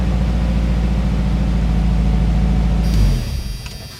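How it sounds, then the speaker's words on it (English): A hot 1985 Chevy S10 engine idles high with a steady, loud, low throbbing hum that holds for about three seconds and then drops away abruptly. "Now the engine's already hot. That idle should be coming down."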